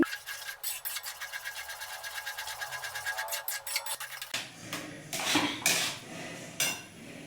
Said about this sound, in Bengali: এবার আমি কর্নফ্লাওয়ারটাকে এর মধ্যে দিয়ে দিচ্ছি ভালো করে মিশিয়ে নিচ্ছি